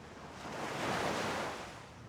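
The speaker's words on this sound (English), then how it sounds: "I can hear the waves of Tangaroa." Ocean surf washing onto a shore, a broad hiss of breaking water swelling and fading over a couple of seconds.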